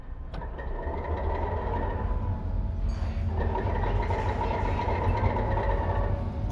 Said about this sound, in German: Ich glaube, das ist eines der geilsten Diesel-Sounds überhaupt in TS Classic.